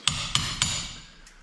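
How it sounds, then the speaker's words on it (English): Hammer and chisel knocking plaster off a wall: three sharp metallic strikes spaced about a quarter second apart, each ringing briefly, then a fainter fourth tap, close and fairly loud. "now I'm just taking it off with a hammer and chisel"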